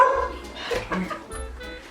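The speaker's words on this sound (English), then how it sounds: "This is our dog who won't stop barking because she's terrified of strangers." A frightened dog barks at strangers in repeated yips and woofs, close and fairly loud, with a few whimpering notes and people talking around it.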